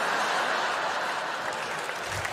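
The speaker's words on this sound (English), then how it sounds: "You'll watch it back and you'll hate yourself for clapping at that." An audience claps at a stand-up comedy show, a steady, dense patter of applause that runs the whole time with a faint murmur of chuckles underneath.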